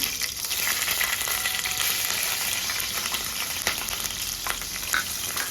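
Green chillies frying in hot groundnut oil with spluttered mustard seeds and bay leaf for tondli masale bhat, giving a steady, close, loud sizzle with a few sharper pops and stirring scrapes throughout.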